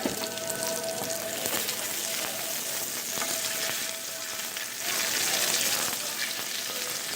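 Pancetta fat renders in a hot pan for chicken croquettes, giving a steady, close, crackling sizzle that holds for the whole stretch and swells a little near the end, with no voices.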